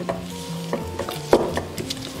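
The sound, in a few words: crushing roasted salted egg yolks in a small bowl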